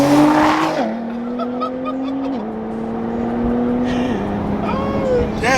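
A two-stroke dirt bike ridden on a street, its engine droning loud and near with stepped pitch shifts as gears change, and voices chattering over it.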